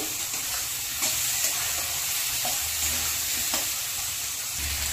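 Spices sautéing in a pan for a pumpkin, potato and shrimp curry, a steady close sizzle with a few spatula scrapes and taps and no talking.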